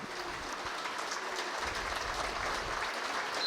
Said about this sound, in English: Wausau West wrestler getting a big round of applause from the fans here as he is finally taken off the mat